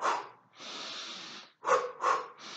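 Several forceful breaths demonstrated as breathing exercise for slowing the heart: a long rushing exhale followed by three short sharp snort-like puffs through the nose, close and clear with no talk.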